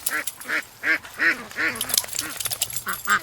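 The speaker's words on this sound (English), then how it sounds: "Alright, we spooked the ducks." Ducks at a swamp, a mix of juveniles and adults, give a run of about nine nasal quacks in an uneven rhythm, fairly close and clear with no talking.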